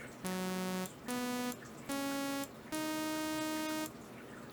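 A bright, buzzy synthesizer preset tone in FL Studio played as four sustained notes stepping upward, each separated by brief pauses.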